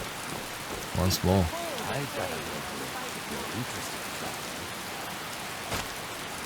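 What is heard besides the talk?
rain falling in a video game (Skyrim)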